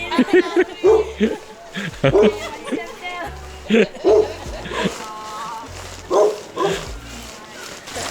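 Several dogs at a house bark in repeated short bursts, fairly close and loud, mixed in with people talking and laughing.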